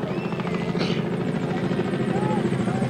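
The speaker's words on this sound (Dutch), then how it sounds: "maar dat is de helikopter van staatssecretaris Van der Rijden" A state secretary's helicopter circles over a crowd at the 1985 Elfstedentocht skating race, searching for a spot to land. Its steady rotor thrum fills the scene, with a commentator speaking over it and crowd noise in the background.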